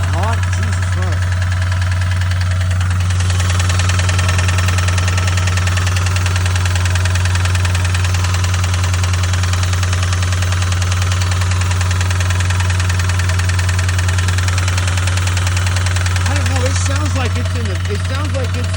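A car engine with a knock idles during a snow storm, a steady loud drone with a deep low hum and a rapid rhythmic tapping running through it, close and continuous throughout.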